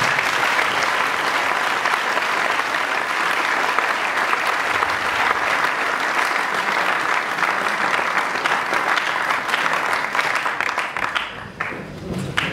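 Sustained applause from a large audience for an imprisoned friend, Théo Moucheni, a dense, steady wash of many hands clapping for about eleven seconds before thinning and fading at the end.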